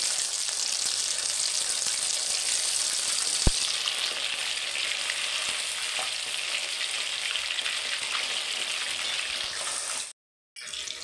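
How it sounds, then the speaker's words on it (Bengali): Bhetki fish deep frying in plenty of hot mustard oil in a kadai, a loud, continuous close-up sizzle with one sharp click partway through and a brief dropout near the end. "এবার মাছটাকে ডিপ ফ্রাই করে নেব।"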